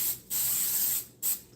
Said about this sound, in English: I'm just going to give this a spray